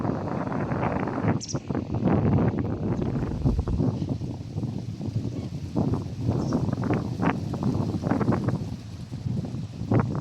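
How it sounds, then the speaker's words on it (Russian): Steady wind rushes and buffets continuously outdoors by a lake in Mustvee, Estonia, with rustling and scattered knocks in the background. "На озере всегда ветер."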